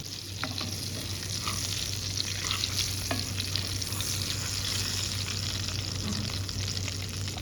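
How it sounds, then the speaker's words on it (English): Fish sizzles steadily in browning butter in a pan for a fish meunière, a continuous close frying hiss with occasional small pops and no talking. "Our fish is getting cooked, and you can see the butter around the fish is getting a nice brown color."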